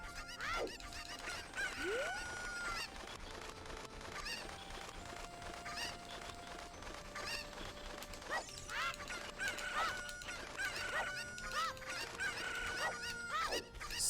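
Chickens clucking and squawking in a Zelda game speedrun, repeated bird cries over busy mechanical clicking and ratcheting game effects, a continuous cluttered mix at low level.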